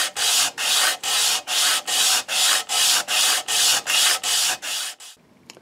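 Rhythmic back-and-forth sanding of the saddle of a Furch D24 acoustic guitar, about a dozen even, loud strokes at a steady pace, close and alone, ending in a quiet pause.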